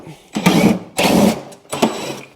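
Impact wrench zipping bolts off a Toro Power Max 824 OE snowblower panel, three loud bursts of rapid hammering each about half a second long, close by with short pauses between.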